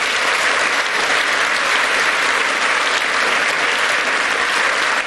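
A live audience at a Watford FC legends stage event claps steadily and loudly, a dense, unbroken wash of applause from close by that holds at even strength for several seconds, with no voices standing out.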